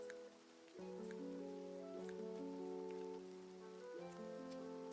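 Steady rain in the video game Grimshire, a faint continuous patter on surfaces beneath sustained tonal game music, with no voices.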